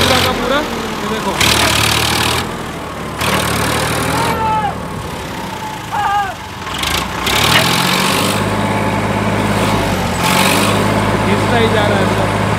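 A tractor stuck in mud runs its engine in a steady low idle and revving rumble, loud and close, with people talking over it throughout.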